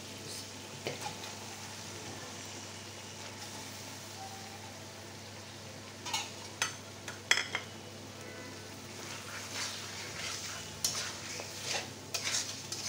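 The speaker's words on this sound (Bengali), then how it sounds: "কষিয়ে নেব মাংসটা" Meat is sautéed with spices in a pan, a faint steady sizzle under intermittent scraping and stirring clatters of a spoon against the pan.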